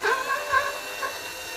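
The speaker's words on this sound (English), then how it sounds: "takes a little effort to do so, but was able to drive that screw" A Ryobi USB lithium screwdriver's small motor hums steadily with a slight wavering whine while driving a two-inch drywall screw, loudest at the start and then settling, heard on its own.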